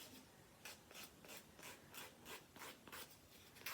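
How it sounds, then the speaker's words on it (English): Rhythmic rasping strokes of a nail file shaping OhOra quartz gel nail strips on fingernails, close and fairly quiet, a steady back-and-forth scrape repeating about every third of a second with no talking. "Filing."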